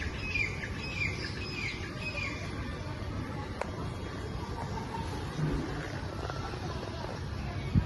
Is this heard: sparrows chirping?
yes